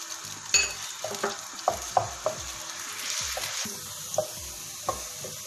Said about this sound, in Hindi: इसके अंदर 2 प्याज चॉप किए हुए ये डालेंगे